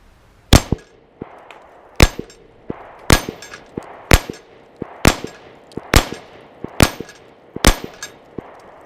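Pistol shots at an outdoor shooting range, about eight sharp loud reports spaced roughly one second apart, each followed by a brief ringing clang of steel targets.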